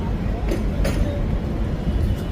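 A passenger train bound for Tirupati rumbles steadily from inside a carriage, with a continuous low roar and occasional metallic clinks.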